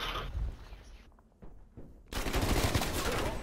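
Gunfire in Call of Duty: Black Ops Cold War multiplayer, a few muffled shots followed by a sudden loud burst of rapid automatic fire at the end.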